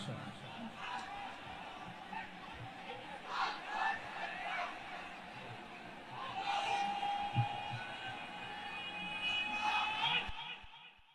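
A large crowd at a Bangladeshi Islamic sermon gathering in Lalmonirhat shouts the takbir response, with loud collective cries rising in bursts over a preacher's amplified voice and swelling toward the end.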